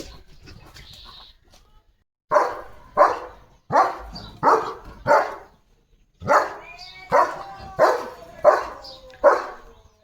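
A German Shepherd barks at another dog in two runs of loud, close, deep barks, each run five or six evenly spaced barks with a brief pause between runs, with faint birdsong in the background.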